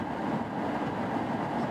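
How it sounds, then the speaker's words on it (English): Low, steady rumble of a passing grain train, heard from a distance with a continuous rolling drone and no clear clatter. "It's another grain train."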